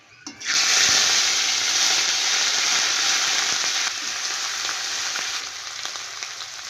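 Ginger-garlic paste and green chilli paste hit hot mustard oil with a bay leaf and five-spice seeds, bursting into a loud, close, continuous sizzle that stays strong and eases only slightly.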